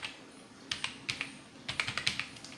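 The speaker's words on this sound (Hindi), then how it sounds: "अब आपको यहां पर नेम टाइप करना है, फाइल का नाम टाइप करना है।" Fingers tap a file name on a computer keyboard in a quiet room, bursts of light clicky keystrokes in two uneven runs with short pauses between them, close and soft.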